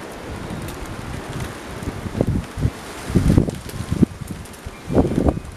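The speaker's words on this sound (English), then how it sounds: "Here's a big gust coming now." Strong wind gusts buffet the microphone as a storm approaches, rising in rough surges with rustling and loud low rumbles, the strongest bursts coming near the middle and end.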